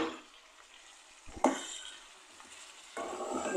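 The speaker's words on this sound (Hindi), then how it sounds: "इसको थोड़ी देर भून लेते हैं ताकि लहसुन अदरक का जो कच्चापन है वो चला जाए।" Ginger garlic paste, about two tablespoons, frying in a pan for aloo gosht, giving a soft, low sizzle with a sharp clatter of stirring in the middle and a louder burst of frying near the end.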